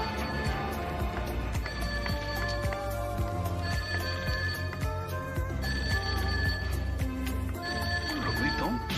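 A telephone rings repeatedly in bursts over a busy background of music and activity, its bell tone returning in a regular pattern.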